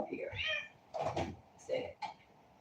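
A cat meows several times in short bursts, fairly close, with a rustle or thump between calls and a voice faintly nearby.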